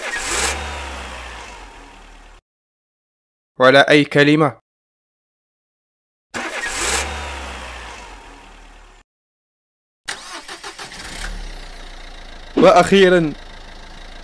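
A car engine starts and revs twice, each burst a loud rising roar followed by a settling hum, with short spoken phrases in Arabic falling in the gaps between the engine sounds.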